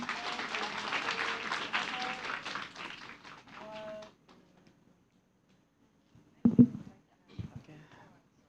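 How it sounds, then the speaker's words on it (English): Audience applause at a cross-cultural learning event, steady clapping for about four seconds that fades out, followed by a few brief thumps and rustles in near silence. "Please give a round of applause again, everyone."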